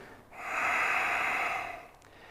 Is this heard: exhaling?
yes